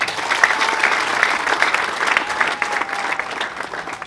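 Applause from an audience, dense and continuous clapping at close range, swelling and easing slightly over a few seconds.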